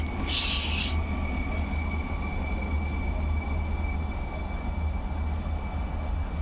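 A train passes through Łowicz Główny station, producing a loud, steady low rumble of wheels and carriages throughout, with a brief high squeal early on.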